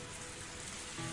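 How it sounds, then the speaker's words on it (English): Rain in the Higurashi visual novel: a steady, faint wash of falling rain with a soft hiss and no distinct drops, unbroken and without any voices. "Raindrops pelted my face without mercy"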